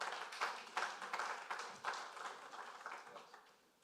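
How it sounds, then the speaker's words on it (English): Applause from a conference audience at a trade fair welcoming a presenter to the stage, steady crowd clapping that gradually fades out, moderately distant, with no one talking. "Round of applause for Deshan"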